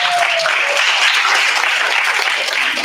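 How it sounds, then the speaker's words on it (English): Audience applause for panelists at a media and information literacy forum in Sarawak, a steady dense wash of clapping filling the whole stretch at close, even loudness. "let's give them a round of applause."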